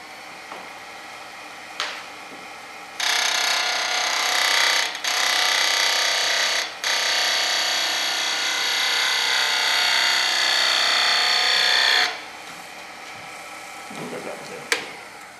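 A Sorby tool cutting a wooden Christmas ornament spinning on a lathe, a steady scraping hiss lasting about nine seconds with brief interruptions, framed by quieter motor hum before and after.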